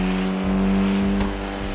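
A car driven in GTA 5, a steady loud engine drone held at high revs with slight pitch shifts, close and continuous with no talk over it.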